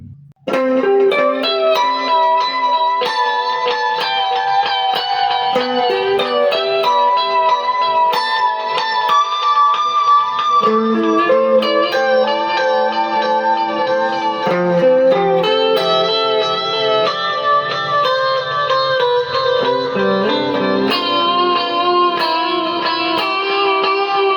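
An electric guitar plays the intro line of a song soaked in delay, each note echoing and trailing into the next, loud and continuous throughout.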